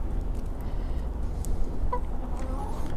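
A Salmon Faverolles rooster on a farm gives a few short clucks over steady outdoor background noise.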